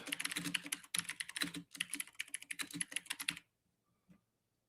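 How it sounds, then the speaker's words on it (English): Quick, steady clatter of keys on a computer keyboard, close and fairly quiet, typing messages into a chat in rapid bursts before stopping abruptly. "I'm typing my posters into the chat right now"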